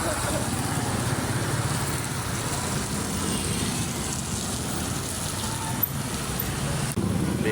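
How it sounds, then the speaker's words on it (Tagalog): Busy street traffic in Catbalogan City, Philippines, with tricycles and jeeps passing: a steady, continuous roar of engines and road noise close by, dense and unbroken throughout, with a faint voice somewhere in the mix. "Busy yung mga tricycle"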